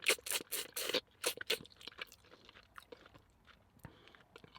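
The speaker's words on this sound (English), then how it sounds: "that's why we suck on it, because there's lots of juices inside the bones" Someone bites and chews on oxtail bones, loud wet crunches clustered at the start and then softer, scattered chewing and slurping sounds at close range.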